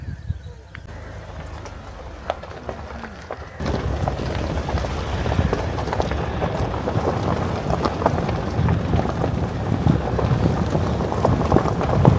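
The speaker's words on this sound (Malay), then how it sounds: "Hujan." Rain falls steadily beside a river at a camping spot in Naryn, Kyrgyzstan, a dense hiss that starts quiet and swells heavier after a few seconds, with scattered drops and voices talking in the background.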